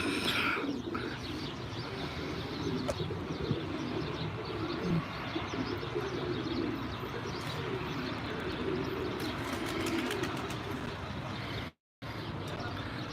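A flock of pigeons coos and chirps steadily outdoors in a continuous, busy chorus, with faint traffic or truck rumble in the background.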